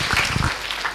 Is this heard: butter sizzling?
no